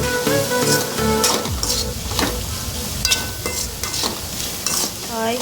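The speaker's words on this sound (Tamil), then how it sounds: "வெஜிடபிள்ஸ்லாம் சேர்த்து நல்லா கிளறி விட்டுக்கலாம்." Chopped vegetables for paneer fried rice sizzle loudly in a pan while being tossed and stirred, with repeated scrapes and clinks of a utensil against the metal throughout and no speech.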